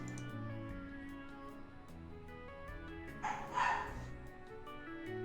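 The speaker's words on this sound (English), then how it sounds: "The doggies have a lot to say." Several dogs yapping and barking in a short burst partway through, close and fairly loud, over a steady tonal background hum.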